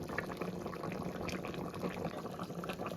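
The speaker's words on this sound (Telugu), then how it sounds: "బాగా మరుగుతుంది" Chanduva fish curry (pulusu) boils in a pot on the stove with a soft, steady, continuous bubbling and hiss, faint and unbroken, with no voices.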